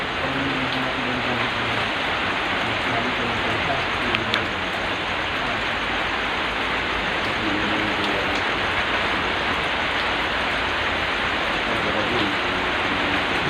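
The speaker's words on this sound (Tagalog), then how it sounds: "Napakalakas ng ulan ngayon guys." Heavy rain pours steadily in a public cemetery, a dense, constant hiss of water drumming on surfaces nearby, with no break for the whole stretch.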